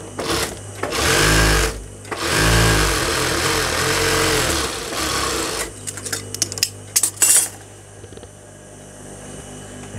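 A sewing machine runs a second line of stitching to make a double seam on a palazzo, with loud, close bursts of motor whir separated by short pauses and then a few quick clicks and taps at the end.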